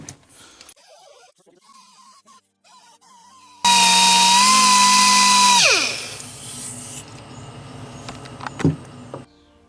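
Power sander working the corners of a custom 3D resin model, a loud, steady whirring drone with a high whine that runs for about two seconds, then winds down in pitch, followed by quieter scraping and handling.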